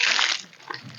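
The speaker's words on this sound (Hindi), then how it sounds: "ड्रिप के माध्यम से पानी चालू है।" Water running through drip irrigation lines in a farm field, a brief splashing, sloshing wash that dips midway and then rises again.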